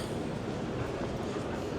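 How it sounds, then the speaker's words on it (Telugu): An MRT train runs through Kuala Lumpur, Malaysia, heard from inside the carriage as a loud, steady rumbling roar with faint wheel clatter and no talking. "అక్కడ వరకు నేను ఈ యొక్క ఎంఆర్టీ ట్రైన్ యూజ్ చేసుకొని వెళ్తున్నాను అనమాట."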